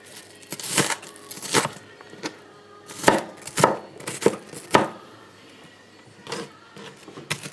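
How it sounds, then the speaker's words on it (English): A knife chops vegetables into small pieces on a cutting board for a beans stew, giving irregular bursts of crisp, close knocks, some in quick doubles, separated by short pauses. "Okay, so I will cut it into small pieces."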